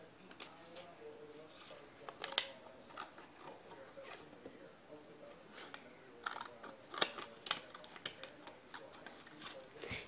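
A child cuts paper with scissors, making scattered faint snips and clicks at close range, with soft voices talking at times.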